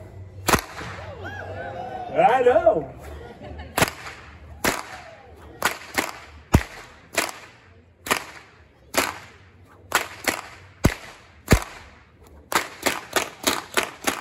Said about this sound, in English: here comes the first whip crack of the show